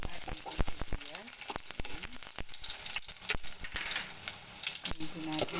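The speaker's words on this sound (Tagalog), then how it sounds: "Ilagay po natin ng mainit na po. Lagay po natin yung ating sibuyas." Chopped onions sizzle and crackle in hot cooking oil in a pan, a steady close frying hiss broken by sharp clicks and pops as they are stirred, with brief speech in the background.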